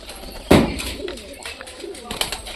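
Pet pigeons cooing nearby, with a sharp burst early on and soft coos following, under a voice speaking.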